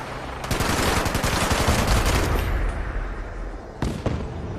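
Rapid automatic weapon fire from the video game Fallout 76, a dense, loud burst of shots lasting a couple of seconds, followed by a quieter stretch and then another short burst near the end.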